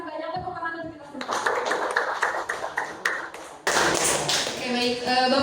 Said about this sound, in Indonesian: Terima kasih banyak tepuk tangan untuk kita semua.